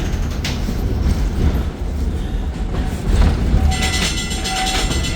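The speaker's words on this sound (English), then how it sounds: "And now we are underway in East Bay Car 362." East Bay Car 362, a vintage streetcar, rolls along at a railway museum with a steady loud rumble of wheels and motors heard from inside the car, and rail clatter continues throughout.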